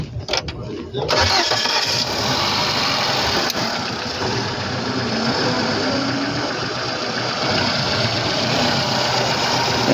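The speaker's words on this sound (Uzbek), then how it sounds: "Motorlardan bir yoqib ko'rsatib beramizmi?" A Chevrolet Cobalt engine cranks and catches about a second in, then settles into a steady loud idle at an outdoor car market, with voices talking nearby.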